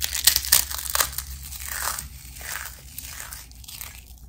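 Crisp, close crunching of Ruffles Double Crunch potato chips, a quick burst of sharp bites and crackles in the first second, then softer, steadier chewing that fades toward the end, with no talking.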